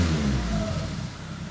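A Renault Megane engine revs toward 4000 rpm and then drops, a loud mid-pitched roar that slides down and fades over the short stretch, with no voices.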